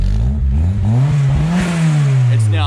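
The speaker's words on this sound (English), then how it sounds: "I'll probably just start the car quickly now for you" A turbocharged Honda Civic engine with a white-smoke fault roars close by, revving up in pitch and then settling back into a loud, rough idle.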